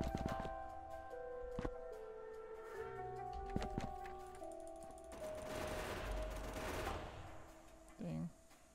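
Turret fire in the game Factorio, with rapid clustered gunshot bursts and clicks over a low hum, swelling into a dense noisy rush near the end.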